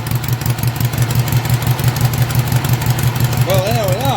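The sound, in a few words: Norman motorcycle engine starting and running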